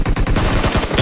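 Rapid automatic gunfire rattles in a tight, loud burst during a PUBG Mobile match, with evenly spaced shots and no talking.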